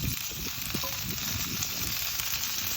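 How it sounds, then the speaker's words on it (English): A thick filet mignon sears on its side in a hot pan, giving a steady, close crackling sizzle with no voices. "when they're thick enough to stand up, I like to sear the sides of them too"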